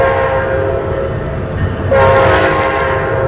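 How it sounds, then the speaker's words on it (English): A Pacific Surfliner passenger train at Santa Barbara station rumbles close by, and its loud horn blasts in steadily over the rolling noise of the cars. "We went to the main Santa Barbara train station and tried to catch up with a southbound train from Santa Barbara going down to San Diego."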